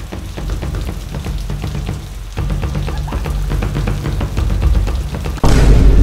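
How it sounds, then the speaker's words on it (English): Steady rain falls outside on a dark, gloomy day, a dense patter of drops on surfaces that thickens partway through and ends in a louder, rougher burst. "it's a dark, gloomy, rainy day outside"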